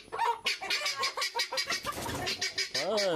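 A hen screeches loudly and close by in a long run of harsh, rapid, repeated squawks with no pauses, ending in a rising, wavering cry.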